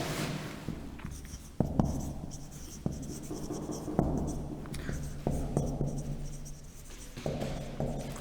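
Marker or chalk strokes on a board during an algebra lesson on set operations, heard as a series of close scratchy squeaks and taps in irregular bursts over a quiet room.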